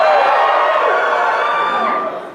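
Comedy club audience screaming and cheering on cue, a loud dense wall of crowd voices sustained for about two seconds before trailing off.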